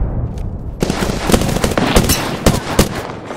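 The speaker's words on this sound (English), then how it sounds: "Firing for effect." Rapid bursts of automatic gunfire from the video game Apex Legends, loud and close, with repeated sharp shots and short pauses between volleys.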